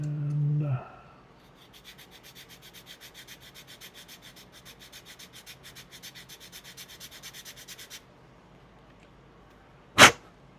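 Close, steady back-and-forth sanding strokes on plastic Necron Ghost Ark model parts run for several seconds in an even rhythm, then stop before one sharp click.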